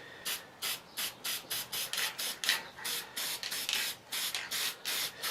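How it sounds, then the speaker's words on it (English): Marsh ink sprayed from a can onto cedar wood in a rapid, even run of about fifteen short hissing bursts, close and alone. "So I'm just going to spray that real quick."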